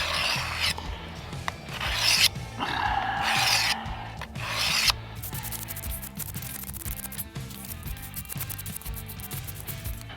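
Steel survival knife blade rubbed against a Work Sharp pocket sharpener, repeated close scraping strokes in bursts at first, then a steadier rasping grind, with no talking.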